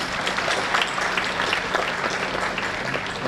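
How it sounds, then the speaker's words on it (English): An audience at an international conference applauds, a dense, continuous wash of clapping filling the hall at steady loudness from start to finish. "Give a good round of applause to them."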